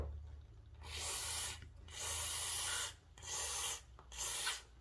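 WD-40 is sprayed onto a Honda VTR Firestorm motorcycle's faulty indicator switch in four close hissing bursts, each lasting about a second with short pauses between.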